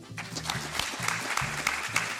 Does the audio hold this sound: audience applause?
yes